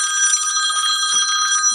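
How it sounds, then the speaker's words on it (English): A telephone ringing alone: a bright, steady electronic ring with sustained harmonic tones that repeats closely for the whole short stretch, clear and fairly loud. "Well, there go the phone."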